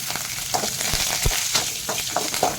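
Dried red chillies and curry leaves fry in hot oil in a pan, crackling and popping up close in quick irregular spurts over a steady sizzle.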